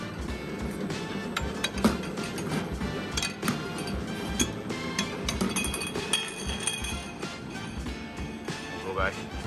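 Glass bottles are loaded onto a ViMeg Vi500 4-1S automatic bottling line with filling and capping systems, making frequent close clinks and taps of glass over a busy mechanical hum, without any talking.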